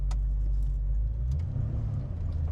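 A deep, throaty 1965 Ford Mustang Fastback engine with Flowmaster mufflers rumbles steadily up close, with low revving swells and faint clinks over the top.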